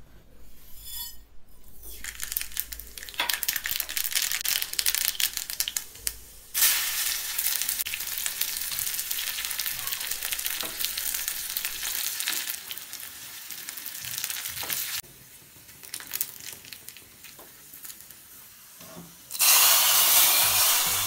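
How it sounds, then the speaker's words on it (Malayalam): Mustard seeds fry in coconut oil for a Kerala toddy-shop style mackerel curry, a loud, dense sizzle and crackle that runs steadily, dips briefly twice and swells to a bright hissing burst near the end, with no voices. "ഇനി നമുക്കിത് കടുക് വറക്കണം. വെളിച്ചെണ്ണ തന്നെയാണ് ഇവിടെ യൂസ് ചെയ്തിരിക്കുന്നത്."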